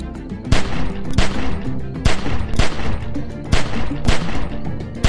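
Gunfire at a window in The Walking Dead video game: sharp shots crack out in quick, regular bursts, loud and close, over a constant low background rumble.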